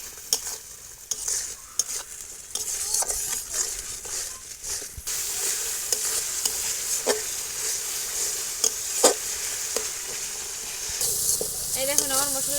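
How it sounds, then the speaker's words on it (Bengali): Spice paste with salt and turmeric being stirred and fried for a rustic broiler chicken kasha, a steady close sizzle broken by repeated scrapes and clacks of the spoon against the pan. "1 চামচ হলুদ দিয়ে এবার নেড়ে চেড়ে আমি মশলাটা ভালো করে কষাই নেবো"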